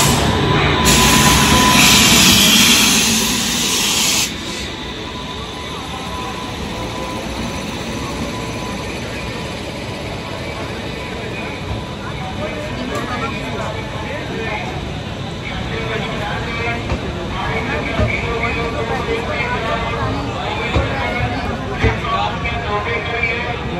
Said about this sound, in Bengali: ট্রেন ঢুকছে এখন দানাপুর পুনে সুপারফাস্ট এক্সপ্রেস।